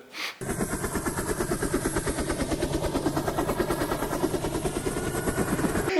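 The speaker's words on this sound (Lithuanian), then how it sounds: "Sraigtasparnis." A helicopter close by, its rotor thudding in a rapid, steady chop after a brief quieter moment at the start, loud and continuous.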